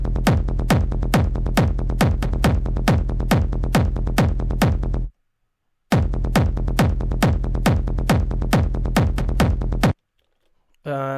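Hard techno psytrance drop with a pounding, heavily distorted bass driven through Camel Crusher and shaped with Pro Q EQ, relentless fast pulses played loud, cutting out briefly mid-loop before slamming back in, then stopping.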